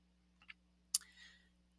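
A computer mouse double-clicks to open a folder: two quick, faint, close clicks, followed by a softer brief rustle, in an otherwise quiet room.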